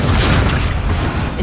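A fire spell bursts in Hogwarts Legacy as a loud, close whoosh of roaring broadband noise that fills the whole short moment and fades slightly at the end.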